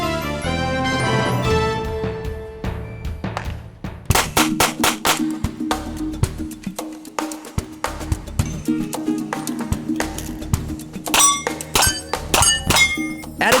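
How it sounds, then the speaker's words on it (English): Competition shooters reload revolvers in turn, giving a run of sharp metallic clangs, clicks and clinks from cylinders and brass, some dense bursts and some spaced impacts, close and loud with steady background music underneath. "show you how each chooses to reload their wheel guns"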